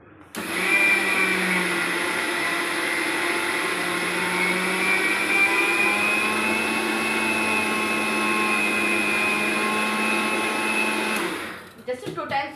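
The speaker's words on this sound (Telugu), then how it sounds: "నువ్వులు తీసుకొని నేను మిక్సీలో వేస్తున్నాను" A mixer grinder whirs loudly and steadily up close for about eleven seconds, grinding sesame seeds, then winds down and stops.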